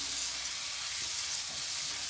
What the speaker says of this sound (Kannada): ಕರಿಬೇವು ಹಾಕ್ಕೊಂಡು ಇದನ್ನು ನಿಮಿಷ ಮಿಕ್ಸ್ ಮಾಡಿ ಇದನ್ನು ಆಫ್ ಮಾಡ್ಕೊಂಡ್ಬಿಡೋಣ